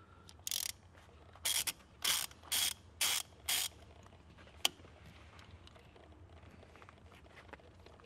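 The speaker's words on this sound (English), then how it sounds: "with a 10 millimeter socket and extension, work your way around loosening" A ratchet wrench with a 10 mm socket and extension loosens the shifter boot bolts on a Honda S2000. It gives several short, crisp ratcheting bursts in quick succession and then a single sharp click, close and clear, with no talking.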